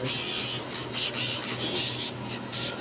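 An electric nail file grinds a dog's or cat's nails during pet grooming, a continuous close rasping whir that swells in short pulses as it presses against each nail.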